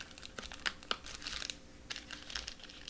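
Wrapping paper is folded and crinkled by hand around a Hershey's chocolate bunny, a close, quiet run of irregular crackles and rustles.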